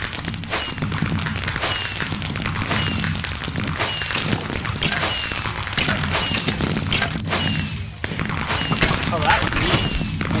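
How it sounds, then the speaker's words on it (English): Fireworks in a video game lobby pop and boom repeatedly in dense, overlapping bursts that keep up at high volume throughout, with crackling bangs. "And so you have all these fireworks for more parties."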